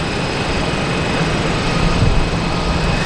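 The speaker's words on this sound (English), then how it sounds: "So we have PAL Airlines coming in." A PAL Airlines airplane coming in to land at Boston Logan Airport, its engine roar a broad, steady wash of noise that swells slightly midway, with no one speaking.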